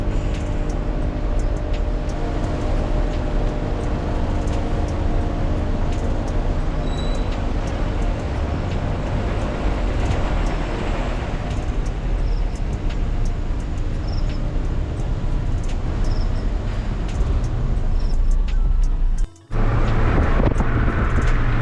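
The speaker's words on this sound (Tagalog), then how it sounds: "Traffic." Steady road traffic rumble heard from inside a moving bus on a long-distance trip between Bicol and Bulacan, a continuous low engine and tyre drone with a brief dropout near the end, no talk.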